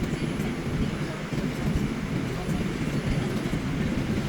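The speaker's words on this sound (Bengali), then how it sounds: "স্নো থাকা অবস্থায় এই মোড়টা দিয়ে ট্রেন কীভাবে ঘোরে" A New York train rounds a curve on the morning after a snowstorm, heard from on board as a steady low rolling rumble with faint rattles, at an even moderate loudness.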